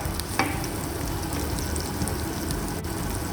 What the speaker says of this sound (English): So I put the chilies in first, and I'm going to let that sizzle for a bit.